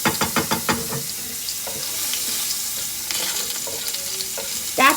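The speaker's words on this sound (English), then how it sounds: "Let the shrimp just sort of boil away." Shrimp cook in a very hot pan with a steady sizzle and stirring clatter. Sharp utensil knocks open the passage and a louder scrape lands near the end, with no voices.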